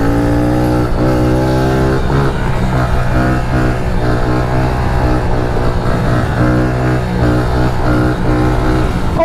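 A motorcycle accelerates hard while riding on one wheel, its engine roaring loud and close in a steady, unbroken drone with rising revs throughout.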